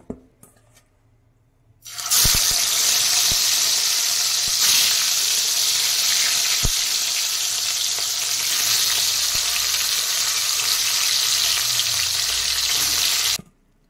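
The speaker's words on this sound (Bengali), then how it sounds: "এবার আমি এক এক করে তেলে দিয়ে ভেজে নেব।" Salted, turmeric-coated rohu fish pieces hitting hot oil one by one, bursting into a loud, steady hiss after a quiet start, with a few sharp clicks of utensils before the sizzle cuts off abruptly.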